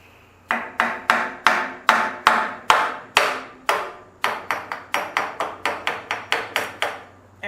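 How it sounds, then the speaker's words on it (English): Repeated sharp metallic hammer blows on a stuck carburetor of a 1948 Ford 8N tractor, about twenty strikes in a steady rhythm, loud and close with brief ringing after each hit. "Let me get a hammer."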